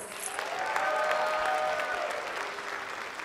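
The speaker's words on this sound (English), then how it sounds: "Let's give a really strong applause to all these recipients tonight." A crowd at a school district awards ceremony claps steadily, a dense wash of applause that swells slightly and then holds, with no voices standing out.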